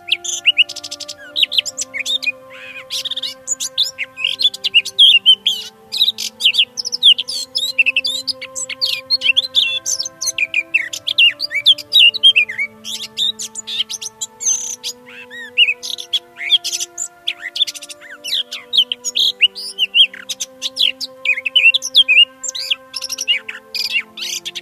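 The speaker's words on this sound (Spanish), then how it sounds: "En el campo vivían muchos pájaros." Many small birds chirp and sing in a countryside setting, a dense, continuous chorus of overlapping high tweets and trills with steady sustained tones underneath, fairly close and lively throughout.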